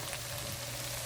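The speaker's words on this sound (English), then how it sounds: "see, it's sizzling." Spicy okra sizzles steadily in a pan over a high flame while being stir-fried, a close, dense, even hiss with no voices.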